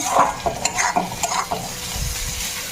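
Spices and tomato sauce stir-fried in a pan for an egg fritter curry, with a steady sizzle broken by several spoon scrapes and stirring knocks, close and moderately loud, with no talking.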